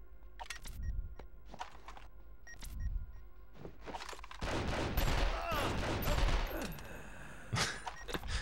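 Gunfire in the video game 24: The Game comes as repeated sharp cracks and short bursts, with a denser spell of shots midway through, fairly close and loud, with a voice talking over parts of it.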